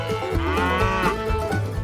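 Several cows mooing in long, drawn-out, overlapping lows, loud and near, with nothing else over them.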